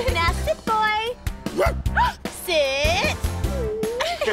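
A voice imitates a puppy, giving several high yips, whines and whimpers, loud and close, with bursts of music and chatter from a children's show underneath.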